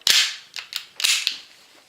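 Airsoft gas blowback pistol fired four times in quick succession, each shot a sharp, close pop with a snappy slide clack, spaced unevenly across a couple of seconds, with no voices.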